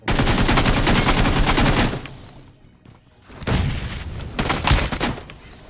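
Sustained automatic gunfire from the video game PUBG, a loud dense rattle of rapid shots that stops, leaves a brief lull, then resumes in further bursts with heavier booming impacts.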